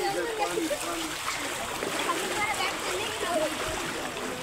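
Water splashes and rushes steadily at the Bhushi Dam waterfall in Lonavala, a broad continuous wash of spray with moderate loudness, a voice speaking briefly over it.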